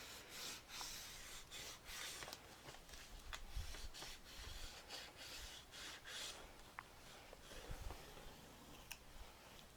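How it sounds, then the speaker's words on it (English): Paper being burnished by hand for a Carta Bella scrapbook album, a soft steady rubbing and scraping with light repeated strokes, close and quiet, no voices. "I'm going to burnish this up a little bit."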